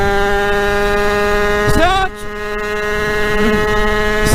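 A dirt bike engine accelerates hard at speed with a loud steady whine, then rises sharply in pitch, drops briefly after a gear change and climbs again, close up.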